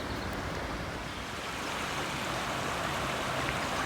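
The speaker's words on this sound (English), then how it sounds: "Another shot of the Oshawa Creek, which runs north of the city and all the way down to Lake Ontario." Oshawa Creek, which runs down to Lake Ontario, rushes in a steady broadband wash of flowing water, close and constant with no voices.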